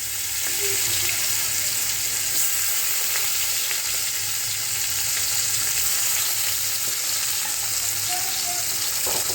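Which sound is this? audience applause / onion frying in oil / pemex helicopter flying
onion frying in oil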